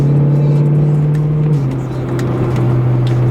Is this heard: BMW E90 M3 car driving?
yes